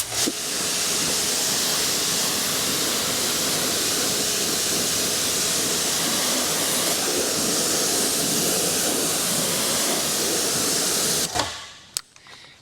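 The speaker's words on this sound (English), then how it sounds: "So just rinsing these off, that's all I'm gonna do to these" A water hose sprays steadily over car wheels with a traditional wheel coating and embedded brake dust, a loud, even hissing rush for about eleven seconds that then cuts off abruptly, followed by a few faint clunks.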